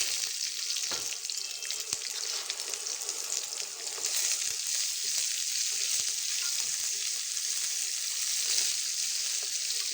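Finely chopped large onion, added after the tempering spices, fries to brown in hot oil with a continuous loud crackling sizzle. Occasional pops and stirring ticks sit in it, close up and with no voices for the whole stretch.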